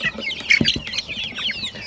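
İspenç chickens and roosters cluck and squawk close by in a quick, busy chorus of overlapping calls, with no human voices.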